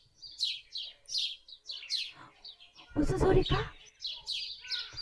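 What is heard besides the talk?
birds chirping, recorded bird song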